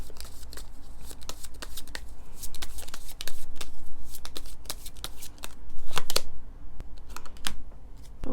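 Tarot cards being shuffled by hand, a close, crisp run of rapid riffling and slapping bursts that repeat irregularly throughout, with a few louder flurries.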